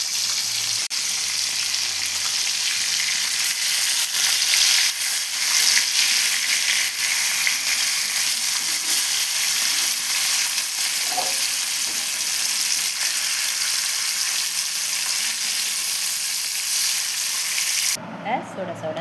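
Fish pieces fry in hot oil with a loud, dense, continuous sizzle and crackle that fills the whole stretch, briefly shifting near the end.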